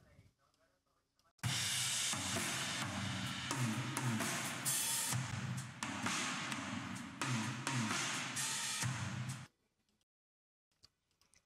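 Room-microphone track of a drum kit recorded in a church hall, a full groove with steady cymbals, snare and kick wrapped in roomy ambience for about eight seconds, beginning and stopping abruptly after near silence.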